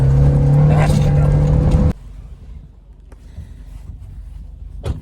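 A Toyota Starlet SR driven hard around a field roars loudly at high revs, then drops sharply to a quieter, rougher idle and rumble, with faint knocks and a brief bump near the end.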